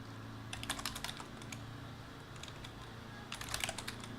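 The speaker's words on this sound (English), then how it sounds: "Let's get the typing done." Quiet clicking of a computer keyboard in two short bursts of rapid keystrokes separated by a pause, over a faint steady room hum.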